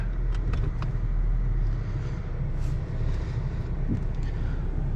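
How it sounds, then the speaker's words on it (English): A Honda Fit engine idles to warm up before an oil change, a low steady rumble with some wind buffeting on the microphone and a few faint clicks above it. "So we're gonna have to warm it up a little bit so that way we can drain the oil out quicker."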